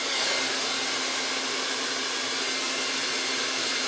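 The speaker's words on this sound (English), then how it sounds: "Essentially, blowing it dry exactly how you cut it." A hair dryer blows steadily while drying a men's haircut, a loud, close, constant airy roar and whine with no pauses and no talk over it.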